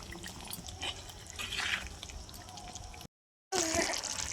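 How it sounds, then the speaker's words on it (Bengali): Water poured into a pot of Bengali egg curry with potatoes, a close trickling, splashing pour that runs steadily, stops briefly and resumes. "আর একটু জল দেবো।"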